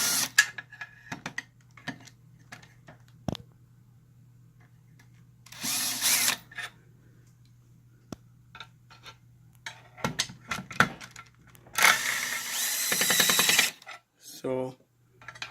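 Power drill backing screws out of an inverter for a Ford Focus lithium-ion battery pack: short bursts of whirring drill noise separated by quiet gaps, clicks and handling sounds, with occasional talk.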